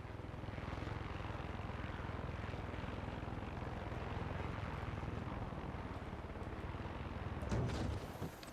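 A helicopter in the video game Far Cry 6 roars with a steady, dense rotor and engine drone, loud and continuous, swelling briefly near the end with a sharper burst.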